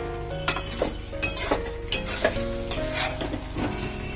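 Chicken curry sizzles in a hot pan while a spatula scrapes and stirs it in repeated strokes, with sharp clinks of metal over the steady frying and no talking.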